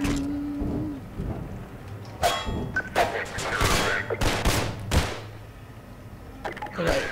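Gunfire in the video game Half-Life, several loud sharp shots in irregular bursts over a noisy game background.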